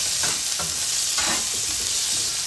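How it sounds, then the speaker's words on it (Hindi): Chopped garlic and green chillies fry in desi ghee, a steady close sizzle with a few soft scraping stirs of a spoon in the pan. "4 सब्ज़ मिर्चें कटी हुई, 1 टीस्पून चॉप लहसुन डालकर लहसुन को गोल्डन होने तक फ्राई कर लें।"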